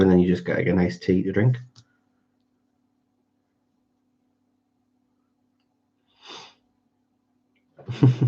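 Someone talks briefly, then after a quiet pause a short, fairly faint burst sounds, followed by another sharp sneeze-like burst at the very end.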